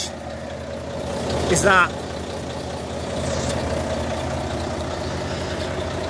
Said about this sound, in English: you've got a Euro 5 13 litre Volvo engine that is driven through Volvo's 12 speed automated I-shift gearbox